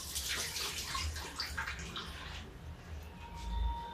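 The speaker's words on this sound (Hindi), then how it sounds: "हाथ क्लीन कर लेते हैं" Hands rinsed under running water at a kitchen sink while cooking, a steady splashing stream with a few drips, close and fairly soft, with no talking.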